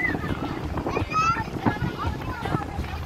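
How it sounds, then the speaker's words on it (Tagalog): Gusty wind buffets the microphone with a low, steady rumble while people talk over it. "Grabe ang lakas ng hangin"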